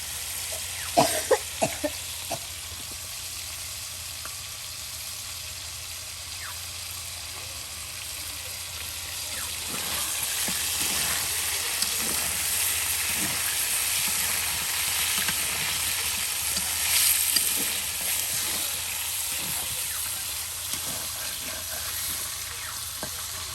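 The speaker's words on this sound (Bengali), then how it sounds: "মাংসগুলো ভেজে নেওয়া হচ্ছে একদম মচমচে করে নেওয়া হবে লাল লাল করে নেওয়া হবে মাংসটা তেলে ভেজে নিয়ে" Chicken pieces fry in hot oil until crisp and browned for a village chicken curry, giving a steady, moderate sizzle with scattered pops and stirring scrapes throughout.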